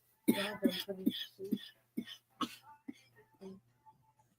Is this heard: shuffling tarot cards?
no